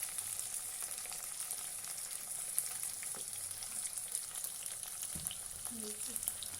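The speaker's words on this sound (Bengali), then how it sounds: "এবার সমস্তটা আবার নেড়ে চেড়ে কিছুক্ষণ ভেজে নেব।" Potatoes and dried fish fry quietly in a pan, a faint steady sizzle with occasional soft stirring scrapes and clinks.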